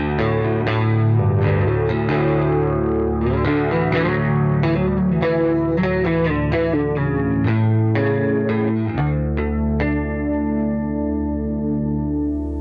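Bass guitar playing a melodic line of sustained notes through a shimmering Dream chorus effect at 85% mix on a Quad Cortex, loud and alone.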